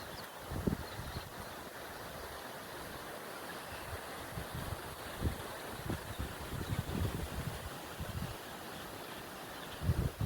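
Strong wind roars steadily outdoors at Antelope Lake County Park, Kansas, with gusts up to 40 mph buffeting and rumbling low against the microphone, swelling louder near the end.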